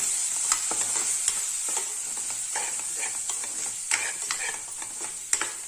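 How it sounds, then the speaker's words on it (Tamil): Oil sizzles steadily in a pan as ground cumin and garam masala are sautéed, while a spoon scrapes and taps through the mixture in irregular stirring strokes, close up. "எல்லாத்தையும் சேர்த்து நல்லா வதக்கி விட்டுடலாம்."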